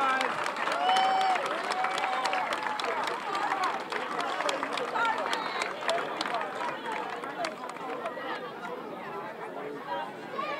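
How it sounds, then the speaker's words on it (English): A crowd at a sports match applauds the Jamaican team, a loose, sustained patter of clapping mixed with chatter and a commentator talking over it. "the Jamaican team coming over, getting a big round of applause from the crowd"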